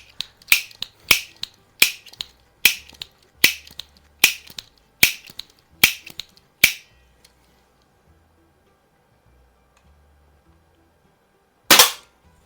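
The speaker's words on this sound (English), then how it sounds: "We'll shoot all 6 of these, right?" An Apache Fireball .24 caliber multi-pump air pistol, tested after repair, fires a quick series of sharp, loud cracks at a steady pace, followed by quiet and then one final shot.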